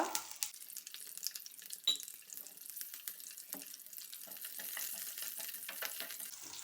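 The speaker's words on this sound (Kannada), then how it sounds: "ಸಾಸಿವೆ ಚಟಪಟ ಆಗ್ತಾಯಿದೆ" Mustard seeds spluttering in hot oil in a pan, a soft, continuous hiss broken by scattered sharp pops and crackles, close by and fairly quiet.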